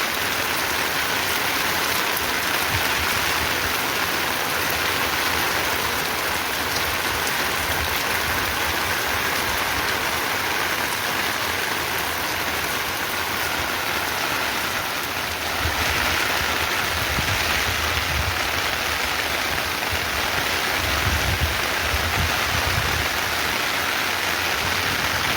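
Heavy rain pours steadily over a rural homestead, a dense continuous hiss with louder low rumbling patches near the end, no voices.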